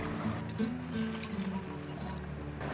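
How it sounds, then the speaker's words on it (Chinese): Boiling water poured into dark-brown, bubbling caramel made from rock sugar over low heat, a steady close pouring and liquid rush lasting a few seconds with no voices. "炒到这种深褐色而且冒泡，我们就立即倒入开水啊"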